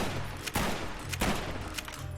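Trail Carbine lever-action rifle firing in Fallout: New Vegas, three sharp shots spaced about half a second apart over a steady low hum, loud and close.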